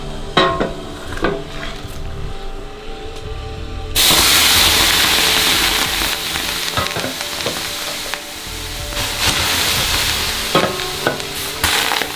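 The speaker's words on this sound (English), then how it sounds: "I'm gonna put the melted snow on the rocks, and we're gonna have some steam in here" Melted snow poured onto hot rocks in a rustic handmade sauna in northern Canada erupts into a loud, sustained hiss of steam, preceded by a few quieter clinks and splashes.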